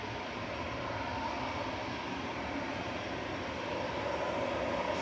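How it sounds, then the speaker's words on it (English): An SAS Airbus A320 arriving from Stockholm comes in to land at Manchester Airport, a steady, distant-sounding jet engine roar that swells slightly near the end. "Next in is SAS from Stockholm. Airbus A320"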